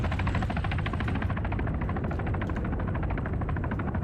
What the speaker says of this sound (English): Alright, armed helicopters going away.